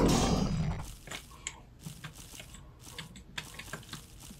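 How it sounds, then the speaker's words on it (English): Slime creatures in a video game make a cluttered run of soft wet squelches and clicky taps, starting with a louder burst and continuing as scattered small splats at a moderate level. "Those slimes were very loud."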